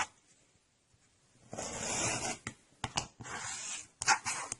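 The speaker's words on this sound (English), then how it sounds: "I'm going to lay my ruler on the dotted line and cut with my rotary cutter." A rotary cutter rolling through fabric along a quilting ruler for paper piecing, a soft close gritty swish lasting about a second, followed by a few short taps and rustles in an otherwise quiet room.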